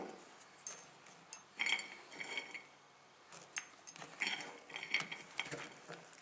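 Cake batter with sultanas and nuts is stirred in a bowl, with soft scraping and occasional light clinks of the spoon against the bowl, quiet and close.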